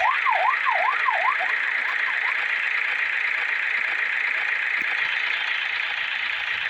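A police siren wails during a video game chase, with quick rising and falling sweeps for the first two seconds that then fade into a steady, loud background wash.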